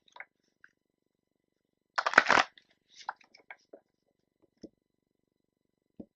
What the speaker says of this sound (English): one more shuffle and then I'll cut the deck